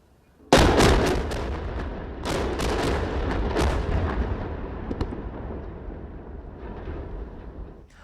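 A controlled demolition blast on the old I-74 bridge in Iowa cuts its cables: a loud sudden explosion followed by a rapid string of sharp cracking bursts and booms over about three seconds, then a long rumbling decay.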